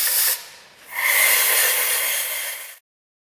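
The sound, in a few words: compressed air blowing to clean parts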